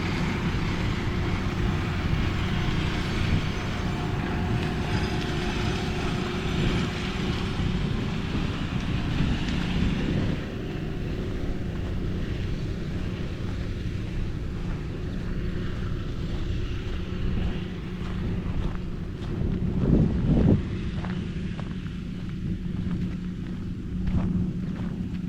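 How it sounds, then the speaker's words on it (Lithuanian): A tractor mowing and mulching rain-wet grass in the Lithuanian countryside near Aknystėlis lake, a steady low engine drone and rumble running continuously, with a brief louder surge partway through. "Na va, traktorius šienauja."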